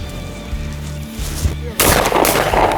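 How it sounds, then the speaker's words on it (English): A shotgun blast cracks out during a Lowcountry quail hunt, one loud close report with a sharp burst of noise, following a quieter stretch of field ambience. "Good shot, Zach."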